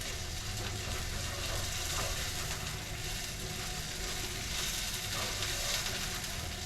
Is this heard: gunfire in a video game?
no